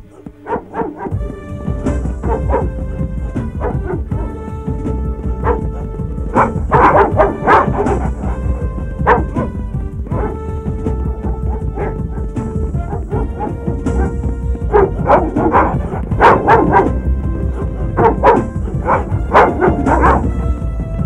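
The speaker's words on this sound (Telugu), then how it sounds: "కుక్కలు వదలండి రా" Several dogs let loose to search bark and yelp loudly and repeatedly in overlapping bursts, with whimpers mixed in and a dense, busy background throughout.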